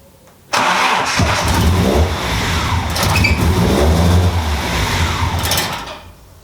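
A BMW E36 car engine cranks briefly and catches, then runs loudly and roughly close by, with the revs rising and falling a little before the sound fades near the end.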